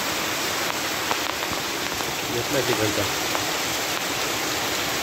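Heavy monsoon rain pouring down with floodwater rushing across farm fields, a dense continuous hiss of rain and flowing water, with someone speaking briefly over it.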